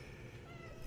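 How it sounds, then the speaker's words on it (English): A cat meows once in a short, fairly loud call that sits over a steady background of noise, with no voices heard. "That's a cat."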